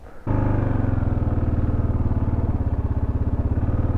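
A 2022 Kawasaki KLR 650 adventure motorcycle firing up and thumping steadily as it rides downhill off road, a loud close single-cylinder pulse with rhythmic low throbbing throughout.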